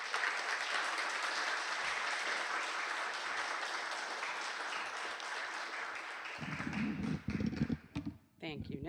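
An audience applauds to welcome Kathleen McGivney at a Horological Society of New York talk, loud continuous clapping from a full room that fades near the end, overtaken by nearby handling noises and brief rustling.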